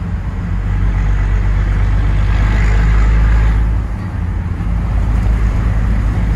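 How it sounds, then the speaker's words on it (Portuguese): A Chevrolet Silverado pickup driving along, a deep, constant engine and exhaust rumble with heavy road and wind noise, loud and steady from inside the cab. "você só ouve o escapamento dela, o motor trabalhando."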